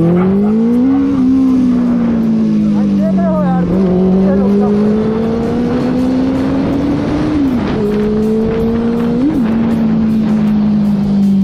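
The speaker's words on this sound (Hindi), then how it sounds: "कितना प्यारा गाड़ी चल रही है" A Benelli 600i motorcycle runs close by with a loud, steady four-cylinder drone, its pitch rising and dipping as the throttle is worked, with faint voices in the background.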